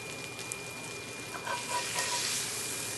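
Beef browning in a pan with fresh rosemary, giving a dense, steady close sizzle with faint crackles and a slight swell toward the end, no voices.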